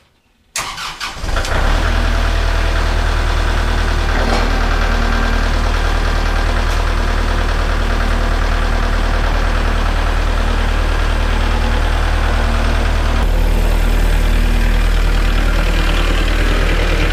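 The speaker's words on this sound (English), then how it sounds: "I'll pull the tractor out of the pole barn" A Kubota backhoe tractor's diesel engine runs steadily at idle after a brief start-up, a loud, close, continuous low rumble that holds unchanged for the whole stretch, with no talking.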